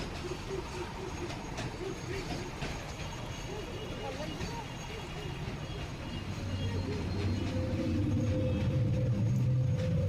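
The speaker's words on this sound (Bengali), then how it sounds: "ট্রেনটা কিন্তু চলছে বেশ ভালো লাগছে" A train running through Kolkata, heard from inside the carriage: a steady rumbling roar that grows louder and heavier partway through, with murmuring voices nearby.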